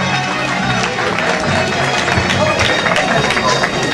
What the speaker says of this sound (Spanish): Ahí está, fuerte el aplauso.